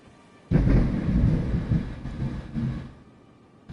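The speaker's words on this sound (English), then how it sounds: "There's a lot of thunder right there." A video game thunderclap bursts in sharply and rumbles loudly for about two and a half seconds before fading, heard alone.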